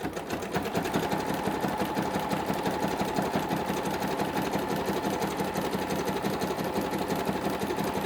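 A sewing machine runs steadily, stitching through a quilted fabric journal cover, with a fast, even mechanical chatter close up for the whole stretch and no speech.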